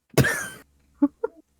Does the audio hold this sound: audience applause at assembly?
no